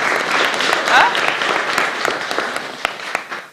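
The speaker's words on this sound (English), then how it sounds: "Can we give ourselves a big clap?" Audience applause fills the room for a few seconds, steady and fairly loud at first and then thinning slightly, with a few sharper individual claps near the end.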